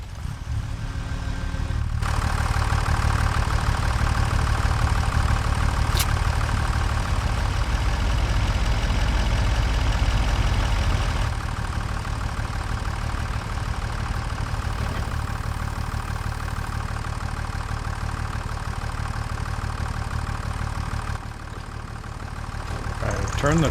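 A truck engine idles in Farming Simulator 25 with a steady low rumble that runs throughout, near and constant, briefly shifting in tone partway through.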